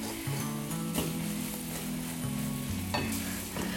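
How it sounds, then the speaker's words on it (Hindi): Ground coriander, cumin powder and garam masala sizzle steadily in a hot pan, a close, continuous crackle with soft stirring scrapes and no voices. "मिक्स कर लेंगे और मसाले को आधे मिनट के लिए पकाएंगे।"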